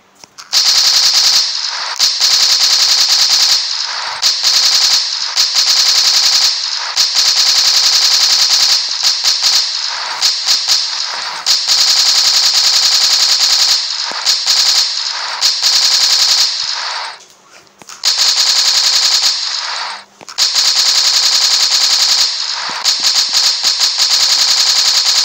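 Rapid automatic AK rifle fire from a video game blasts in long, loud bursts, each a dense rattle of shots, separated by a few brief gaps and a short pause near the end.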